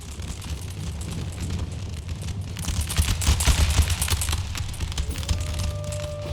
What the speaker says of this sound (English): Oh, canister shot.